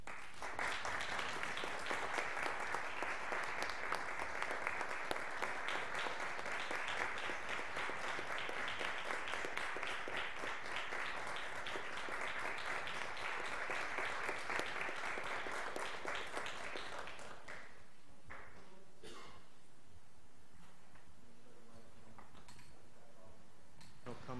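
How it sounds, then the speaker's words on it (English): Audience applauding at the Princeton council meeting, a dense, steady wash of clapping for about seventeen seconds before it thins out and stops, leaving quiet room sound. "please join me in applauding Julie Ramirez"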